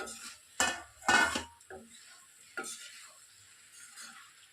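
Cauliflower for a spicy Andhra-style fry is stirred in a pan, with a few sharp scrapes and clatters of the utensil over a light sizzle, close up and separated by brief pauses.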